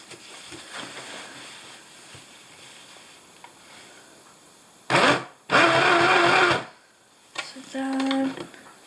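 A cheap beginner mini sewing machine runs in two loud bursts, the second lasting over a second, after a quieter stretch with faint talk, then a brief whirring third burst near the end.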